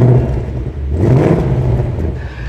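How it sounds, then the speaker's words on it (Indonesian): A 2024 Ford Mustang GT V8 engine growls deeply and revs up loudly, swelling in the middle before settling back to a rumbling idle. "Nggak tahan gitu loh untuk ngegas"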